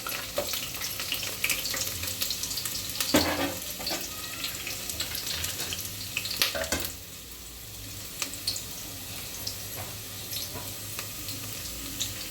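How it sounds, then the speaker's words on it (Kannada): Whole spices tempering in about four teaspoons of hot oil for palak paneer, a steady close crackling sizzle with occasional sharper pops and stirring scrapes, no voices. "ಇದು ಒಗ್ಗರಣೆ"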